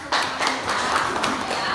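A small group in a classroom claps hands for a couple of seconds, a dense, moderately loud patter of claps starting abruptly.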